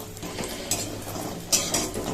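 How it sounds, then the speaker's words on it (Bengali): Homemade lentil dumplings (bori) hiss in hot oil in a pan, a close, steady sizzle broken by a couple of brief scraping and clinking touches of a utensil, with no voices. "এবারই হচ্ছে বড়িটা ভেজে নেবো"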